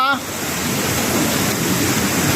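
The Marikina River rushes close by, running high and near overflowing its banks after continuous rain, giving a loud, steady roar of churning water with no break across the moment.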